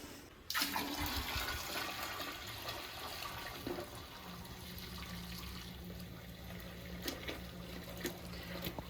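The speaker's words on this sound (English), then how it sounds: "We go and pour it in the toilet." Dirty carpet-cleaning water is poured into a toilet, a steady rush and splash of liquid that begins abruptly, runs continuously at moderate loudness and then settles into a low trickle.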